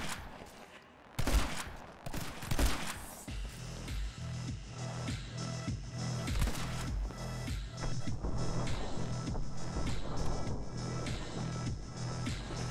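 Gunfire in the video game My Friend Pedro, including a shotgun, comes as dense rapid bursts of shots over game music. The clip opens with a sharp burst and then runs as continuous busy firing at moderate level.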